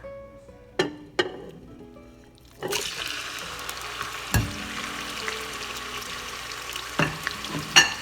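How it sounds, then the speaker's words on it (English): Food hits hot oil with a sharp burst, then a steady sizzle runs throughout, broken by a few clinks and scrapes of a utensil. "You hear that sizzle, you know that that's perfect temperature."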